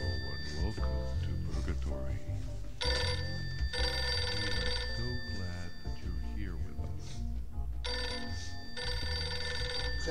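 A telephone bell rings in repeated bursts with pauses between them, mixed with lively cartoon dialogue and background sounds from the animated show Rick and Morty.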